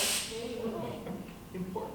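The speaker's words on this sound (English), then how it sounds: "this is why we switched out for roach spray" Roach spray from an aerosol can aimed at a wolf spider in a bathroom, a hissing spray burst at the start that fades into softer hiss and a faint voice-like murmur.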